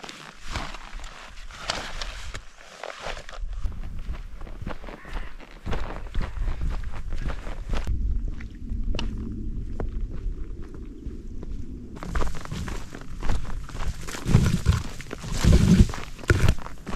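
Footsteps of a hiker walking along the Cumbrian Way toward Coniston, a steady rhythm of close steps on a trail with outdoor ambience, quieter for a stretch midway before becoming louder and busier again.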